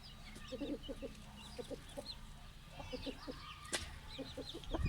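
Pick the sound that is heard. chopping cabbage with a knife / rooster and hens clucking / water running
rooster and hens clucking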